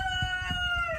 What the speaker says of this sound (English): Damn rooster, guys.